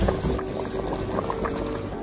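Jamaican gungo peas bubbling in a pot on the stove, a steady close boil with a dense spread of small popping bursts throughout.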